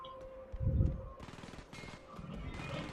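An automated turret in the video game Aliens vs Predator fires in rapid, rattling bursts. The shots are moderately loud over a quieter game background.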